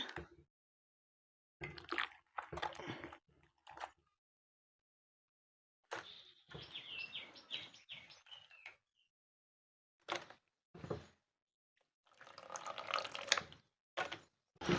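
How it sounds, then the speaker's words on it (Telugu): Small cut pieces of goat lung are squeezed and washed by hand in a bowl of water, with bursts of splashing and sloshing separated by silent pauses. "ఇప్పుడు వీటిని కొంచెం నీటి కడుగుదాం మనము వాటర్లో వేసి"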